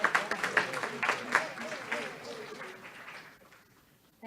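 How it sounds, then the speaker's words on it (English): An audience applauds a sister from the Sisters of Mercy as she comes up to speak at an HIV/AIDS awareness event, a crowd clapping that runs steadily then fades away over a few seconds. "Let's give her a round of applause."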